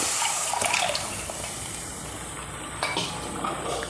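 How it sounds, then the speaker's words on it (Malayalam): Tamarind water is poured steadily into a pan of fish curry, a broad splashing wash that fades slightly, followed by a small clatter near the end. "എടുത്തു വച്ചിരിക്കുന്ന പുളിയും വെള്ളവും കൂടി അങ്ങോട്ട് ഒഴിച്ചു കൊടുക്കാം"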